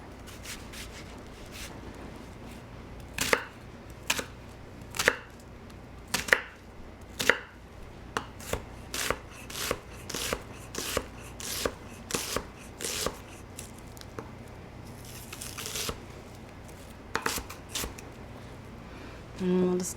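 A knife dices a vegetable on a cutting board while vegan broccoli cheddar soup is being made. Crisp chopping strikes come in irregular bursts, some quick and clustered, others spaced apart, at close range and moderate loudness.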